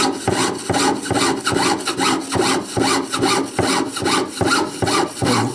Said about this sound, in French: Donc maintenant je scie sur les deux traits.